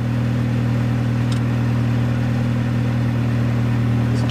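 Car idling low and steady while backing up in a parking lot, a constant droning engine hum close by with no clear revving.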